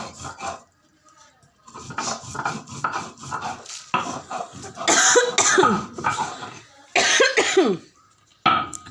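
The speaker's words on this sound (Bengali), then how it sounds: "দেখেন আপনাদের ভাবি অন্ধকারে মশলা বাটছে" Hand grinding of spices on a grinding stone in a dim kitchen, heard as repeated scraping, rubbing strokes in uneven bursts, fairly close, with occasional brief voices and clatter between strokes.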